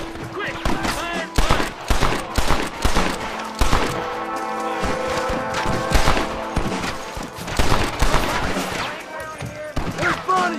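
Gunshots crack and burst repeatedly through a Red Dead Redemption shootout, loud and close, with bursts of fire between shouted voices and music playing underneath.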